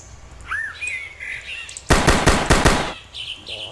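Gunfire in the Zombie Block video game: a rapid burst of about five sharp shots, loud and close, following faint chirping game ambience.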